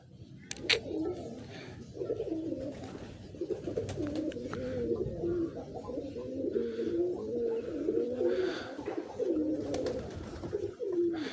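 Pigeons coo steadily in overlapping, throaty calls, fairly close and moderately loud, with a few brief clicks and no talking.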